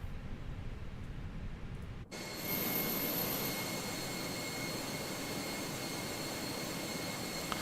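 Simulated Airbus A320 jet engines spool up in Microsoft Flight Simulator 2024: a quiet cabin hum gives way to a sudden, steady, loud broadband roar with a thin high whine, holding for several seconds without speech.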